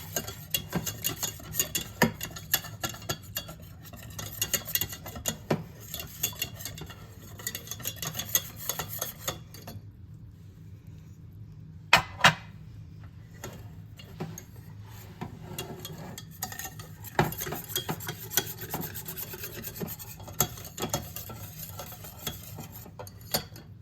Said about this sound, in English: I'm just going to add it a little bit at a time and then kind of stir it up